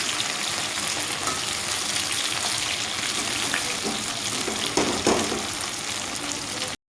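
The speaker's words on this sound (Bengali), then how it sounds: "ভাজা করে নিচ্ছি" Oil sizzles and crackles steadily as bitter gourd fries in a pan, a continuous close hiss with occasional sharper pops.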